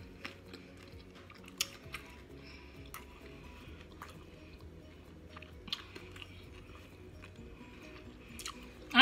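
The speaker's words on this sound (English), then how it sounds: "I'm eating my shrimp." Someone eating boiled shrimp from a seafood boil, with soft, wet chewing and occasional sharper bites close by over a low background hum, plus a louder knock at the end.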